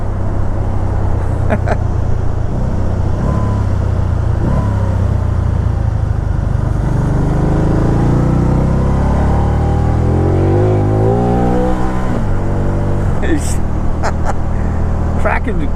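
A 2010s BMW car engine revs and accelerates hard up through the gears, loud and close from inside the cabin, with a rising then falling engine tone and people talking over it.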